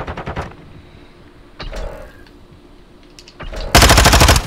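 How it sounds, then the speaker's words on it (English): Automatic gunfire in a Call of Duty hardpoint match: a short rapid burst at the start, scattered single shots in the middle, then a loud sustained burst at the end. "As I'm getting shot from tunnel."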